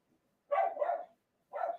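A dog lets out three quick barks, two close together and then one more after a short pause, fairly quiet against an otherwise silent background.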